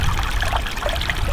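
Water trickles steadily from a tiny hole in a snifter valve on a water pump, a continuous close, even hiss and dribble with faint gurgles and no voices.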